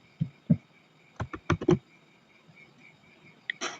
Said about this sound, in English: you can do this fast by pressing on the keyboard Windows plus Shift plus S